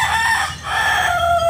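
A rooster with a bright red face and pumpkin-toned plumage crows loudly and close by, one long drawn-out call with a brief dip midway, heard alone without talk.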